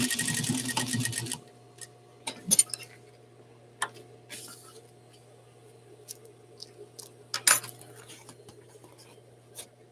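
A sewing machine stitching fabric makes a brief dense mechanical whir, then falls to a low steady hum broken by scattered light clicks and taps.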